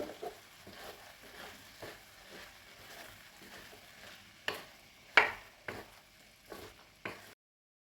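Bottle gourd pieces stirred in a cooking pan for a suraikkai curry, with soft sizzling and a run of scraping, clinking spoon strokes that grow sharper and louder toward the end.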